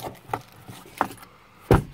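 Car keys set down inside the cab of a 2000 Chevrolet S10 pickup, a few light metallic clinks and taps spaced apart, ending in a sharper knock, close up with no talking.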